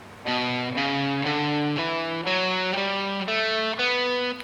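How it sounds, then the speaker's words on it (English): A natural minor scale rises note by note on a single instrument, eight even steps played at a steady pace, clear and close with no voices. "So natural minor sounds like this."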